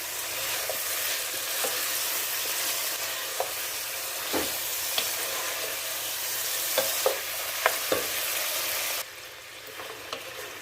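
Garlic and ginger fry in hot oil in a pan, a close, steady sizzle broken by repeated scrapes and taps of a spoon as they are stirred.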